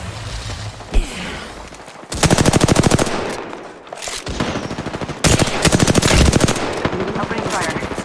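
Automatic weapon fire in the video game Apex Legends, with loud, rapid bursts of shots in two long stretches and a single sharp report early on.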